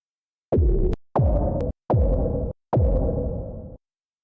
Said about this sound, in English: this is our second impact sample